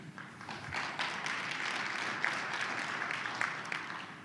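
An audience at a legislative session applauds, a soft, sustained wash of many hands clapping heard from some distance, evenly spread with a few louder claps standing out.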